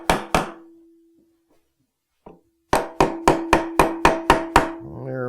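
Soft hammer rapping on the assembled halves of an AeroVee aircraft engine case to seat them: two taps, a pause with a faint knock, then a steady run of seven evenly spaced sharp blows, close and loud.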